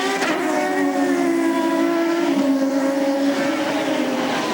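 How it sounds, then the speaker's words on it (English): Champ Car race cars at Mid-Ohio: a high, shifting engine wail with layered harmonics, pitch dipping and climbing as a car crests a hill at speed, moderately distant and unbroken. "The engine races for a moment as you pop up over the top of that hill."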